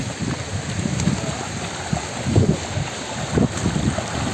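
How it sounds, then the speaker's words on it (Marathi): A fast-flowing forest stream near a dam rushes in a dense jungle, making a steady, loud broadband wash with gusty wind buffeting the microphone and no voices. "ओहल खूप वेगाने धावतो आहे"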